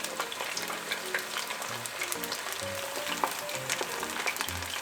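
Chicken karaage deep-frying in oil over medium-low heat, a steady crackling sizzle with dense small pops throughout, close and moderately loud, no voices, with faint low tones underneath.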